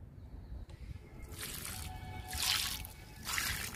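Water from papaya peels soaked for a few days is poured onto a flowering millie plant in several short, soft splashing bursts over the soil, quiet and close.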